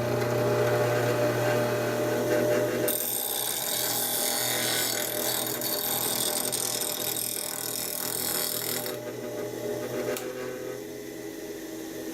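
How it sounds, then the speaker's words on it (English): Bench grinder running while a woodturning tool's final bevel is ground, a loud steady motor hum joined by a bright hissing grind that lasts several seconds before easing off near the end. "So we'll switch this on, put the tool horizontal, drop it a fraction, and then grind on that last bevel."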